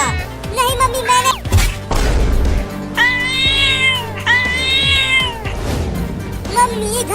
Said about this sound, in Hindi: मम्मी इस बिलार को भगाओ, ये मुझे काट रही है।